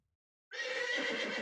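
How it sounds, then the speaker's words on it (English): A horse's neigh rings out suddenly after a moment of silence, close and sustained, with a bright whinnying tone. "you want your horse bigger. A bigger horse."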